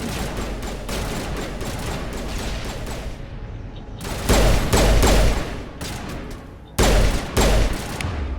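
Gunfire from the Mass Effect Legendary Edition video game, played on Xbox Series X: loud bursts of rapid shots in several clusters separated by quieter stretches of lingering noise.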